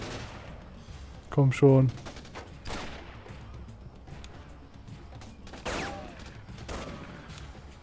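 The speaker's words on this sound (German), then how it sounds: "Sie schießen auf mich." Enemy gunfire in the video game Raven Squad comes as a sharp burst of shots near the start, followed by scattered fainter pops and clanks. Someone speaks briefly over the action.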